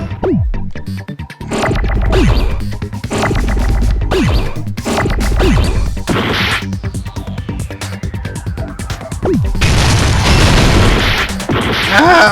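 A fire grenade goes off in Danganronpa 2, booming loudly with crashing, crackling bursts and falling whistles, several blasts following one another in a busy, chaotic stretch.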